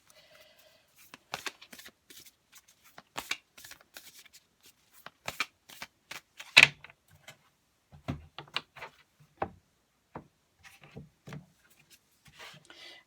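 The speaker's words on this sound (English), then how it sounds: "So I'm going to pull the last card." A tarot card is drawn and laid out from the deck: a series of soft, dry card slides and rubs, scattered taps and papery flicks at close range, with no voice.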